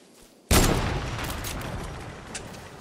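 Video game gunfire: a single loud, close shot or blast at the start, followed by a long decaying rumble that fades over the next couple of seconds.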